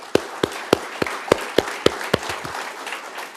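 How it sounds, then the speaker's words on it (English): Scattered audience applause at a kickoff event, a handful of sharp, distinct claps spaced out over a few seconds and tapering off, moderately near. "so I want to give her a round of applause"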